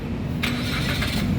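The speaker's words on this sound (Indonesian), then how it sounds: "Sekarang kita coba nyalakan mobil." A 2019 Suzuki Baleno 1.5 automatic hatchback with about 20,000 km starts by push button: a short crank bursts in and settles straight into a steady, close engine idle hum that runs to the end, with no talking.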